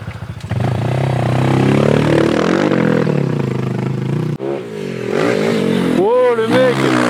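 A dirt bike motorcycle on a jump terrain revs hard, its engine droning loudly and then climbing sharply in pitch as it accelerates near the end, with people talking over it.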